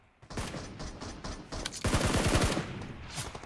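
Automatic gunfire in the mobile shooter BGMI, rapid rattling bursts that surge louder halfway through, harsh and close with no pauses for talk.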